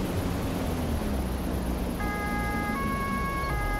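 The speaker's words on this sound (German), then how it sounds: "Schön Martinshorn einblenden." A German police car siren in the Autobahn Police Simulator 2 video game switches on partway through, its steady wailing tones sitting over constant loud road and engine noise.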